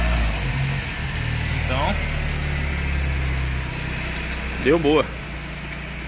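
A VW AP engine with noisy hydraulic lifters and low oil pressure runs steadily at about 2000 rpm with a continuous low hum, while people talk briefly over it.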